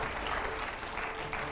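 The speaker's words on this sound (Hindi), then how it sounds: "जोरदार तालियों के साथ रैपिड फायर राउंड।" Loud, dense applause from a studio audience at a televised political interview show, a continuous wash of clapping without a break.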